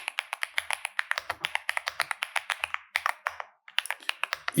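Rapid, close keystrokes clatter on a computer keyboard as code is typed, in quick bursts with short pauses between them and no talking.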